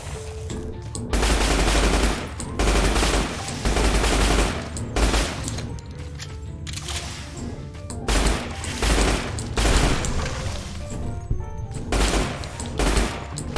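Heavy gunfire from a powerful weapon in Fallout New Vegas, loud repeated bursts of shots with brief pauses between volleys, no talking over it.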